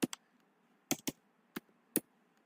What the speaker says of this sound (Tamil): டேக் எதுவுமே கொடுக்காம வெறும் என் பேரை மட்டும் நான் டைப் பண்ணுறேன்